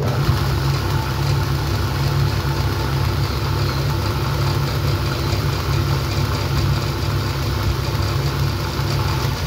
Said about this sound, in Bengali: চলো এখন কথা না বাড়িয়ে কীভাবে আমরা কয়েলটা চালাচ্ছি সম্পূর্ণ দেখিয়ে দিচ্ছে এই ভিডিওর মাধ্যমে।